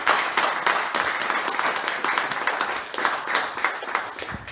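A church congregation claps together during a Spanish-language sermon, a dense, continuous wash of applause that holds steady throughout without pause.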